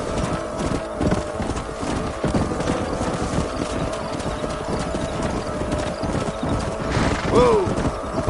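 Several horses trot along in Red Dead Redemption, steady clip-clop hoofbeats mixed with creaking wagon or harness mechanics, ending with a short whinny near the close.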